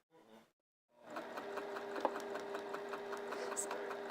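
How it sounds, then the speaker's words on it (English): A sewing machine stitches quilt binding in a pressed crease, running in a fast, steady mechanical whir after a brief short burst and pause, close and clear. "So I'm sewing right in that pressed ditch."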